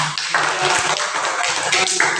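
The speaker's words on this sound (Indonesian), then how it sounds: "Ya, kita tepuk tangan." A primary school class of third-grade pupils claps hands together in a classroom, a brief loud burst of many hands clapping with some rhythmic accents and voices mixed in.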